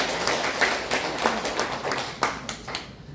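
An audience at an introductory training session for a mothers' reporter group claps together, the applause faint and somewhat sparse, with scattered sharp hand claps over a soft room background.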